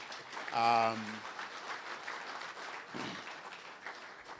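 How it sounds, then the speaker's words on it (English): An audience at a currency debate gives a speaker applause: a dense patter of clapping runs under a brief musical tone and then fades to a softer spread of claps, with a voice heard faintly. "I want us to give Acting Governor Dr. Chipika a huge round of applause, if we may"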